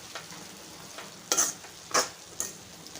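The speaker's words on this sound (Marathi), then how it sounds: "पाव चमचा हळद टाकूया आणि छान असं मिक्स करूया।" A spoon scrapes and stirs through a pan of spicy cabbage and pea curry as turmeric is mixed in, three or four short distinct strokes over a quiet background sizzle, with no talking.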